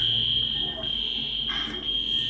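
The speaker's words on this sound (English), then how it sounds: "That would be the fire alarm being set off" A fire alarm sounds as a steady, continuous high-pitched electronic tone, loud and unbroken throughout, with faint background noise beneath.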